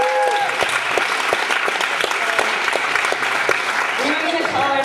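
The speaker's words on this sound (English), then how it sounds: "give every one of the performers a big round of applause" Applause for performers at a school arts show builds as a steady wash of clapping, with scattered sharp claps and a voice speaking over the tail end.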